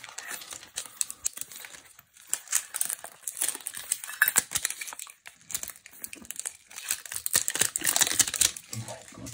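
Plastic foil is peeled and torn off a Pokémon Pokeball tin, making close crinkling and crackling bursts in uneven spurts with short pauses between them.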